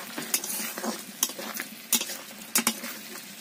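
Potatoes cooking in a pan while being stirred, with a soft, low sizzle broken by several sharp scrapes and clinks of the spoon against the pan at irregular intervals.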